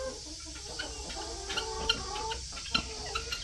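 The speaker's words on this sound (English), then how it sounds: "Old guinea fowl, they're going out there." Farmyard guinea fowl calling outdoors, a series of harsh clucking and chattering cries at irregular intervals, moderately distant, over faint background hum.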